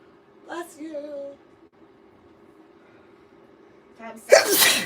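A single loud, close sneeze bursts out near the end, after a short gasping intake and some quiet voiced sounds earlier, in an indoor livestream setting.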